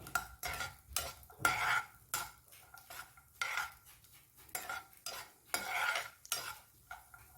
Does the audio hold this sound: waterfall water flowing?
no